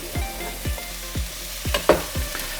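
Mixed vegetables such as carrot, courgette and peppers sizzle in a hot pan, and a spoon stirs them in regular scraping strokes about every half second, close and clear with no talking.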